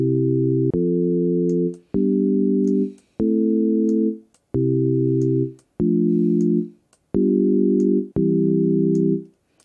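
Default chord progression from Reason's Chord Sequencer played on pure sine waves: a series of clean, sustained electronic chords, each lasting about a second with short gaps and crisp attacks at every change, with no talking.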